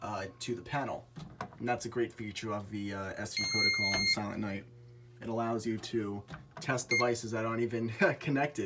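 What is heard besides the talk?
fire alarm panel beeping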